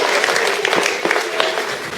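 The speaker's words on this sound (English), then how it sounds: "Big round of applause." Audience applause at a live comedy show, a steady wash of many hands clapping that holds evenly for about two seconds with no talk over it.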